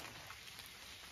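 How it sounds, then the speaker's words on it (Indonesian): Steady rain patters as a dense, even hiss on a mountain hiking trail, with no voices and nothing standing out from the wash of drops. "Kita lecek ini hujan."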